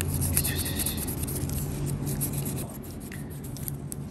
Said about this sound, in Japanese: まあこれ磨くとね、すごく綺麗になるんで、これも楽しいですね。